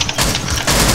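Loud, close gunfire from the video game Rainbow Six Siege in two heavy bursts filling a short moment, with no voices.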